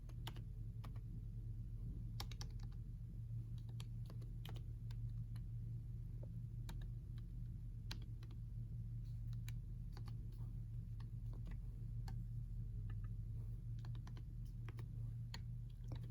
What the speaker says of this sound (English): it's hard to type with one hand